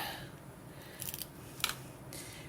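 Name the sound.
scissors cutting paper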